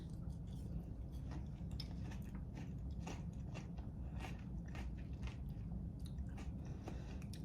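Watermelon feta salad with cucumber and onion being eaten: soft, wet crunching and biting in a quick irregular rhythm, faint and close to the mouth, with no talk over it.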